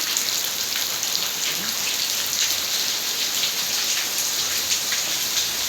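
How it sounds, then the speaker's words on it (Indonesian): Steady rain falls continuously, a dense, even hiss of drops hitting surfaces that stays at the same close, full level throughout with no voices. "Hujan."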